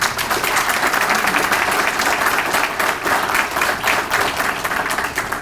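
An audience at a police swearing-in and promotions ceremony gives sustained, dense applause, many hands clapping steadily throughout without a break.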